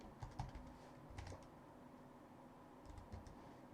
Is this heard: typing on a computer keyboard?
yes